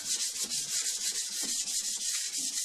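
Steady rhythmic rubbing of 400-grit sandpaper wetted with WD-40 across a metal tool, repeated back-and-forth strokes with a hissy scratch, close and continuous.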